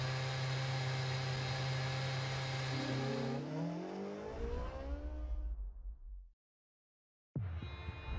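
Formula 1 race car engines in the F1 2013 video game idle with a loud, high buzzing drone, then sweep and fall away before cutting to silence, and another engine sound starts abruptly at the end.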